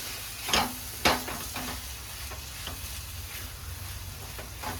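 Spinach (palak) fries in a pan as peanut powder is stirred in, with two sharp spoon knocks early on and then softer scraping strokes over a low, steady sizzle.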